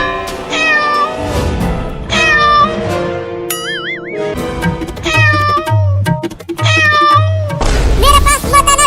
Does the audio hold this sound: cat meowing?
yes